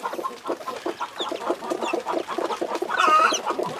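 Several chickens cluck continuously in a busy, overlapping chorus in a henhouse with newly hatched chicks, with a few sharper higher calls near the end.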